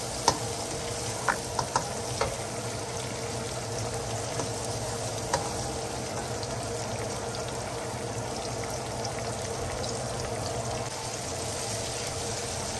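Chopped tomatoes fry in a hot pan with a continuous bright sizzle, broken by a few sharp clicks and taps near the start as they are stirred, close and steady throughout.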